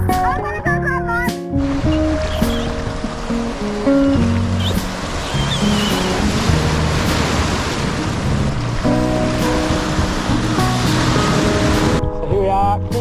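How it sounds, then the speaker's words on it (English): Small, gentle ocean waves break at Kingston Beach, making a steady wash of surf under a layer of tonal music, with faint voices in places. "It's a nice little kiddie wave."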